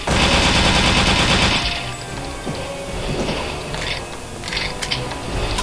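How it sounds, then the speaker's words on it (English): Gunfire in the video game Return to Castle Wolfenstein, a rapid burst of automatic shots up close and loud for about two seconds, followed by fainter scattered shots and mechanical clatter in the background. "I think I heard gunshots."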